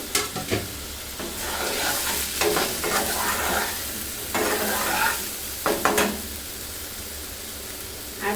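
Okra tipped into potatoes already frying in a pan, a constant close sizzle broken by several bursts of spatula scraping and stirring, no voices.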